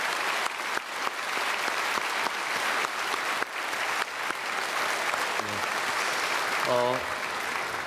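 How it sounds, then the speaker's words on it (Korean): A congregation at a Sunday worship service at Myungsung Church claps together in sustained, even applause that fills the hall for several seconds, with a voice briefly heard near the end. "우리 준비위원들께도 마지막으로 박수 한 번만 더 하겠습니다."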